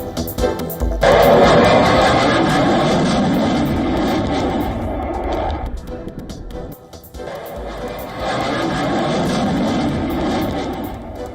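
A Polish F-16 fighter jet roars loudly during an air show rehearsal in Radom, a continuous broad engine rumble that dips briefly midway and swells again, with no talk.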